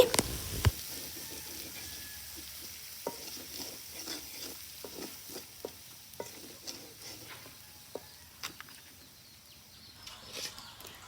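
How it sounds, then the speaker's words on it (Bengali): Spices for a village-style Bengali koi fish curry are sautéed in a pan, with quiet repeated scrapes and taps of a spoon over a faint sizzle, close but soft, without voices. "সবগুলো মশলা একসাথে মিশিয়ে ভালোভাবে কষিয়ে নিচ্ছি"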